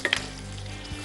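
Capsicum and curry leaves sautéing in a pan give a brief, soft sizzle with a couple of quick stirring clinks at the start, heard close with no voices.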